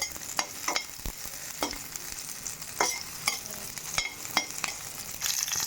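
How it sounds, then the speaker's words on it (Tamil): Small onions and a little piece of tamarind sautéing in a pan for a Tamil manathakkali thuvaiyal: steady soft sizzle with repeated scraping strokes of a spoon, close and moderately quiet, no talking. "ஒரு ஏழு சின்ன வெங்காயமும் ஒரு சின்ன துண்டு புளியும் இதில் சேர்த்துக்கிறேன் சேர்த்துட்டு இதே ஒரு ஒரு நிமிஷம் நல்லா வதக்கி எடுத்துக்கலாம்"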